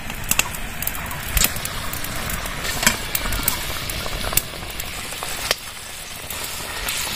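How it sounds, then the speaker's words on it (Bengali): Pieces of katla fish go into a boiling yogurt gravy for doi katla, a steady close sizzle and bubbling with a few sharp splashes and clinks, with no talking. "গ্রেভিটা ফুটে উঠেছে, এবার মাছগুলো ঢেলে দিয়ে দেবো।"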